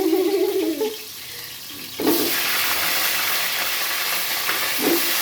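Hot oil splatters and sizzles loudly in a pan as potato and onion tempering is cooked, a sudden burst of crackling hiss that stays steady and close after a brief quieter moment.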